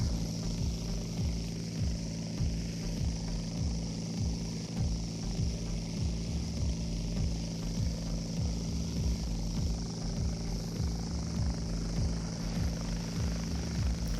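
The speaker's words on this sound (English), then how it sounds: "I hear a helicopter." A helicopter in a flight simulator game drones steadily with a rapid, even rotor chop, loud and continuous, over a broad engine whine, with no talking.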